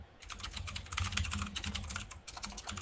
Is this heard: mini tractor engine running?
no